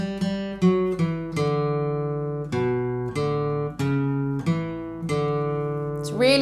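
An acoustic guitar plays an instrumental riff, a steady series of plucked, ringing notes in a repeating pattern, clear and close with no talking.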